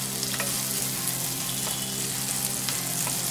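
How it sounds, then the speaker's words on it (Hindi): Onions frying in butter in a pan while cooking paneer butter masala, giving a steady, close sizzle with small crackles and pops throughout and no talking. "प्याज को हम 1-2 मिनट के लिए थोड़ा सा भून लेंगे बटर में"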